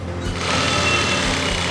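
A sewing machine runs fast and close up while stitching a bandhani-fabric patchwork chudidhar. It gives a continuous mechanical whirring drone with no voices over it.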